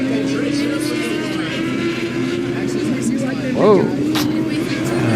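Dirt track race car roaring past at Salina Speedway, a sustained loud engine drone with a brief swelling pass, under crowd ambience and a short exclamation from a nearby voice.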